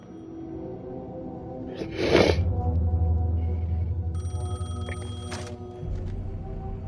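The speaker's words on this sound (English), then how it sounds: "The payphone was ringing." A payphone rings in the video game Alan Wake 2, a short electronic ringing burst over a low, steady ambient drone with a brief rustle before it.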